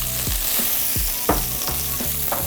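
Panko breadcrumbs toasting in melted butter in a hot pan give a steady close sizzle, with a few soft scraping stir strokes cutting through at regular intervals and no talking.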